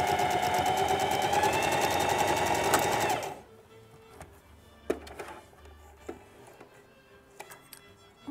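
A sewing machine runs a quick test seam on blue-dyed (kékfestő) skirt fabric, a loud steady whir of rapid stitching for about three seconds that stops abruptly, followed by quiet handling clicks and small knocks.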